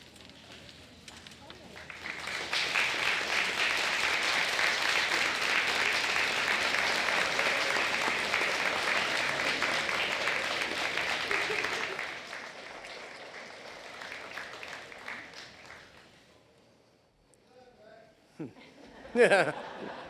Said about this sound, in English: offer a round of heartfelt applause